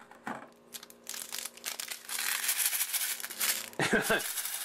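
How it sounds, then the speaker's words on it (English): A plastic insert is pried out of a Mario & Sonic candy tin, giving crinkly plastic crackles and a couple of sharp snapping pops near the end, close and fairly quiet. "let's go ahead and pop out the plastic here"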